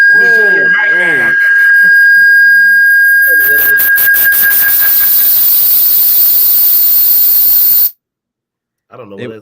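A referee's final whistle at a college basketball game, one long piercing shrill tone with a hissing crowd roar, loud and close, after a brief voice and before a sudden cutoff.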